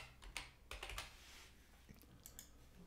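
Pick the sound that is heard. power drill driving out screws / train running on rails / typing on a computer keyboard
typing on a computer keyboard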